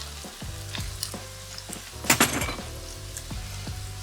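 Potatoes hit a pan of sautéed onions with a burst of sizzling frying, loudest just after they go in, then settling into a steady crackle with occasional clatter of stirring.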